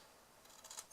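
Scissors snipping white paper by hand, a few faint, brief, close cuts that grow slightly louder toward the end.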